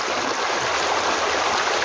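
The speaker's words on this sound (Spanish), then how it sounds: "Ahí vemos cómo baja el agua." Stream of water flowing down on a hidden farm, a steady close rushing and gurgling with no break and no voices.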